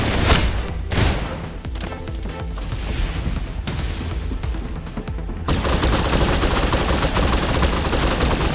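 Gunfire in the mobile shooter Snowbreak: Containment Zone, a dense stretch of rapid shots with crashes and booms, getting louder and busier after the midpoint, with no talking.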